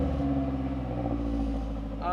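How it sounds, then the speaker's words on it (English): A car engine idles with a low, steady rumble, and a faint rattle from the exhaust runs underneath it. "I have a little bit of a rattle in my exhaust"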